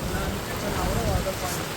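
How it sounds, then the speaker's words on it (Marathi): A stormy wind gusts during a pilgrimage walk in rainy weather, a rough, blustery rumble buffeting close to the microphone at a steady, moderately loud level with small surges. "खतरनाक एकदम वादळ वारा."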